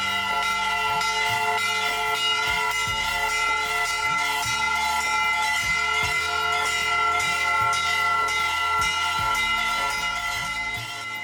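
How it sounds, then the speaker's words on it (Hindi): Hindu temple bells and gongs ringing during evening aarti at a Shiva temple in Haryana, a loud, continuous clangor of rapid metallic strikes with rich sustained overtones, dense and unbroken throughout. "आरती के समय घंटा, घड़ियाल और शंख ध्वनि से वातावरण गूंज उठता है।"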